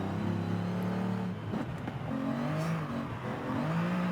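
Sports car engine in Forza Horizon 5, revving and dropping back as the throttle is worked, a steady droning tone with rising and falling pitch, close and fairly loud.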